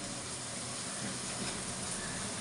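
Onions sautéing in a pan for mutton biryani give a steady, dense broadband hiss and sizzle that holds evenly throughout at moderate loudness, with no talking.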